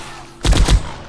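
Gunfire in the survival game 7 Days to Die: a quick burst of about three loud, punchy shots in under half a second, rising from a quiet background and fading quickly.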